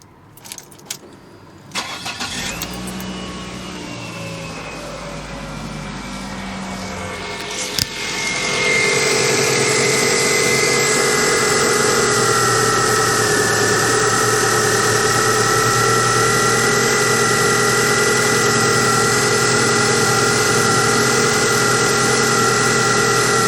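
A Ford Focus Mk1 with the Zetec engine, after an idler pulley guide replacement: a few clicks and a key turn, then the engine cranks, catches and settles into a steady, loud, close idle with a slight belt whine.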